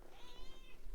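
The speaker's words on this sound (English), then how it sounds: "that's the cat." A house cat meows at a door, wanting to be let out, a faint, drawn-out mewing cry rising and falling over about a second, quiet and slightly distant against room noise.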